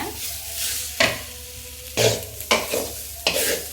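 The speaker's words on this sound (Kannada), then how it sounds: "ಎಣ್ಣೆ ಏನು ಹಾಕಬೇಡ್ರಿ, ಹಾಗೆ ಡ್ರೈಯಾಗಿ ಹುರ್ಕೋರಿ ಕೊಬ್ಬರಿನ" Grated coconut dry-roasts in a pan without oil, giving a soft, dry rustling hiss that is broken by several sharp scraping strokes of a spatula, about one each second, close by.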